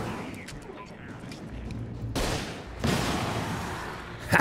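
Bursts of gunfire from the game Alan Wake burst out against a busy, murky background, with two loud broadband blasts and a sharp crack at the end.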